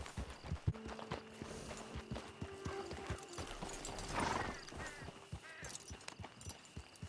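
Horse hooves clip-clop at a steady walking pace in the video game Red Dead Redemption 2, fairly close and crisp, with a horse whinnying partway through and faint background music under it.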